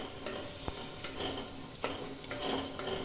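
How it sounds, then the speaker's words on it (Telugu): Grated carrots fry in a pan for carrot halwa, a soft sizzle under repeated stirring with a few sharp scrapes and taps of the utensil against the pan. "ఒక 2-3 మినిట్స్ ఫ్రై చేసుకుంటాం."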